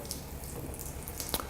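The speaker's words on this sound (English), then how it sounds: "I want to pour some cold water on that surface." Cold water pouring onto a kitchen surface, a steady close splashing wash that runs throughout with a few brighter drips and spatters, no talking.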